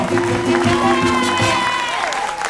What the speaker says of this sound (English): Our first act, let's give a huge round of applause